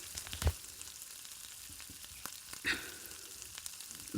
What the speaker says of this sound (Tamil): வெங்காயம், கறிவேப்பிலை, பூண்டு இந்த 3ஐயும் போட்டு நல்லா வதக்கி விட்டுடலாம்.